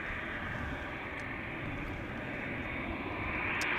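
An aircraft at Amsterdam Schiphol Airport produces a steady, distant engine roar that holds evenly throughout, a broad continuous rumble with no voices.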